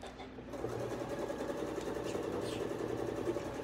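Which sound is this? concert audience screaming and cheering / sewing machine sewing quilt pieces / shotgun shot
sewing machine sewing quilt pieces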